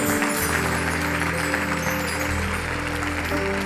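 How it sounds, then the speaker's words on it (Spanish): A church congregation applauds loudly and continuously, a dense roar of clapping with a low hum underneath. "Dale un aplauso fuerte al Señor."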